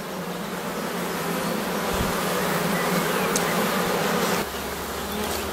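Honey bees hum and buzz steadily around an open beehive during a colony inspection, a dense continuous drone close by with no talking.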